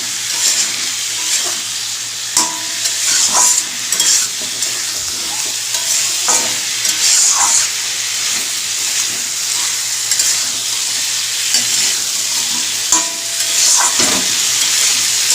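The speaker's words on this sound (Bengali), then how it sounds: "মশলাটা এবার কড়াইতে দিয়ে দিচ্ছি" Spice paste stirred and fried in a wok (kadai) for a Bengali shukto, a steady close sizzle with repeated scraping strokes of the spoon throughout, alone without talk.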